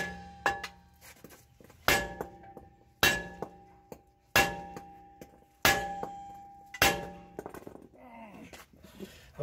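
Sledgehammer blows on a brake rotor of a Nissan NV or Titan ring out as sharp metallic clanks, about seven evenly spaced strikes that ring and decay, close and with no talking.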